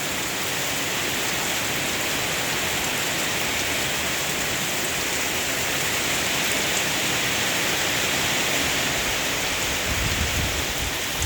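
Steady, fairly heavy rain pours down on a durian orchard in Ban Kruat, Buriram, in a constant dense hiss, with no voices.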